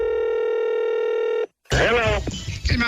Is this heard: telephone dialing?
yes